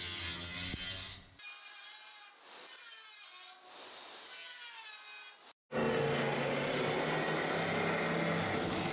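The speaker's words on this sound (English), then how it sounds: "We used a reciprocating saw to cut the corners of the panels." A reciprocating saw cuts through the corners of a steel shipping container panel, long loud buzzing passes broken by short pauses, with a harsh rasping stretch in the middle.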